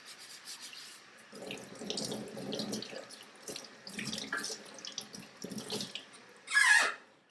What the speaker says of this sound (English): Rinse off the degreaser